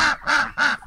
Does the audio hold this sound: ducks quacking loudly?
yes